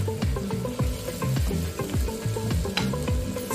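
Hot spicy pepper sauce is stirred and tossed in a pot for native jollof rice with pepper goat meat, a loud close sizzle broken by rhythmic scraping strokes of a spoon against the metal.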